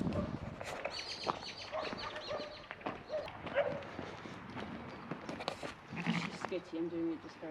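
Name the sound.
sheep bleating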